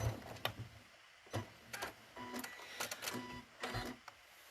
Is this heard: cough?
no